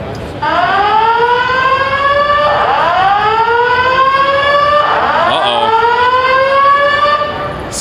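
A fire alarm siren wails at the CES 2019 convention, loud and continuous, with repeated rising sweeps that restart every couple of seconds, filling the hall without pause.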